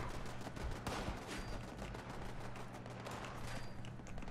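Continuous gunfire in Fallout 76 during a workshop PvP defence, a dense steady barrage of shots rattling throughout, muffled and fairly faint.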